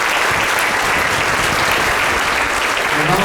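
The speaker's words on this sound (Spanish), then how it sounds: "Le damos un aplauso al Señor." Church congregation applauding during a sermon, loud, dense clapping from many hands held steady for the whole stretch, close and unbroken.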